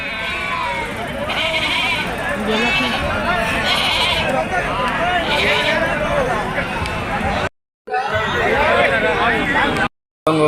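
Goats bleat repeatedly, loud and close, amid a busy market crowd with people talking over them.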